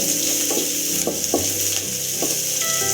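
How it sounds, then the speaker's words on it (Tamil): Onions and green chillies sautéing with salt in a pan for millet kozhukattai produce a loud, continuous sizzle. Several scraping strokes of a spatula stirring the pan cut through it, close up and with no talk. "வெங்காயம் பச்சை மிளகாய் வெந்து வரணும்ல, அதனால் நம்ம கொஞ்சம் உப்பு போட்டு தாளிச்சிக்கிறோம்."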